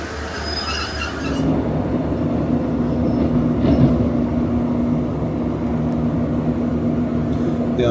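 A train for York, 152.73 from Pontefract Baghill, drawing into a station in South Yorkshire: a steady, loud rolling rumble of wheels on rails with a faint squeal, near and continuous throughout.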